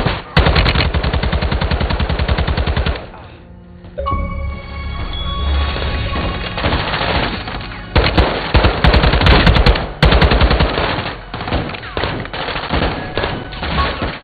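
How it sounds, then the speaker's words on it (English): Sustained automatic gunfire and heavy thumping blasts from a weapon fitted with a grenade launcher in the Modern Warfare II video game, loud and dense bursts with brief pauses and continuous battle noise throughout. "I have a weapon with a grenade launcher on it, so I'm just flashing myself and shooting it in the direction they think the enemies are."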